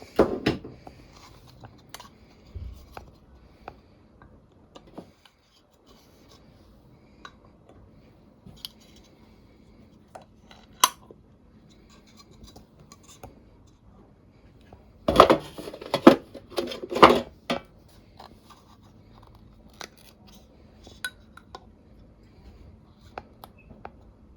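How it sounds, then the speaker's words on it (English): Metal two-part canning jar lids clinking and scraping as they are pried apart, sparse small taps early, then a cluster of louder sharp metallic clicks, close and alone. "Struggling to separate some lids."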